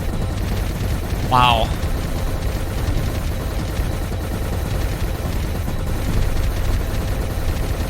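A plasma cannon firing in the video game Time Wasters: dense, rapid crackling bursts of blasts running continuously, with a brief exclaimed voice early on.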